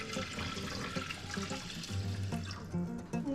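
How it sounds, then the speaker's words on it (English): Two cups of water poured into a saucepan holding a cup of washed rice, a close, continuous splashing gush with bubbling tones and no speech. "And then 2 cups of water."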